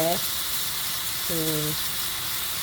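Onions for an egg omelette sauté in a pan with a steady, even sizzle and hiss throughout, while a voice speaks briefly at the start and again midway.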